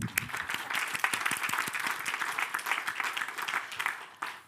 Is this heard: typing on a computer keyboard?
no